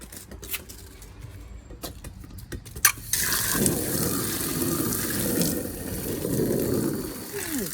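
Tap water runs in a garden for washing, gushing in suddenly after a few seconds of scattered knocks and clatter and then pouring steadily and fairly loudly to the end.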